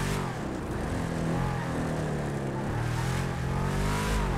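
A three-wheeled heavy motorcycle in GTA 5 revs and accelerates hard, its engine a loud, continuous buzzing roar whose pitch climbs and surges repeatedly, close and dominant throughout.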